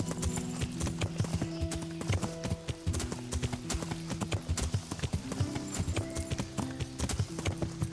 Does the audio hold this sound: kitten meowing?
no